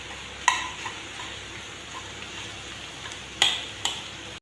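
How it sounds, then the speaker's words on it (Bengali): Star fruit chutney cooking in a pan with sugar being stirred in: quiet, soft simmering bubbles under a few sharp scrapes and taps of the spoon against the pan. "আবারও নেড়ে চেড়ে দিচ্ছি।"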